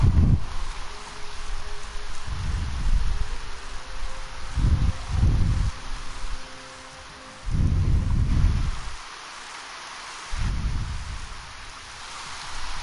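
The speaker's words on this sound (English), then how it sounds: "Now the rain coming down." Heavy rain pours steadily outside a front door during a warm-weather thunderstorm, a constant hiss with several loud low rumbles of thunder rolling in and out over about thirteen seconds.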